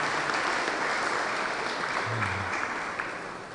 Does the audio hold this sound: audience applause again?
yes